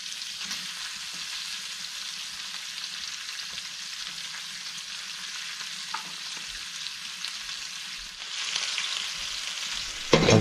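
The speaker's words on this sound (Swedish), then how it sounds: "Det är bara att bryna på så många man kan" Steady, hissing sizzle of oxtail browning in a hot frying pan on a wood-burning stove, continuous throughout with occasional stirring clinks and a louder burst near the end.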